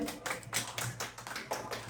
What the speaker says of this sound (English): Clap for Tabassum.